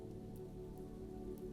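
Steady rain falls outside a window onto a wet street, a soft continuous patter with faint droplet ticks, even and unbroken throughout.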